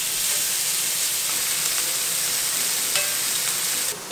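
Chicken fajita ingredients sizzle in a pan with a steady, close, dense hiss throughout, and a brief clink of a utensil near the end, with no speech.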